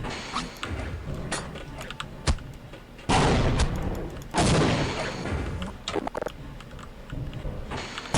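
Computer keyboard keys pressed during Half-Life play, scattered sharp clicks and taps mixed with loud in-game gunfire bursts and thuds, close and busy, with bursts of heavy shooting.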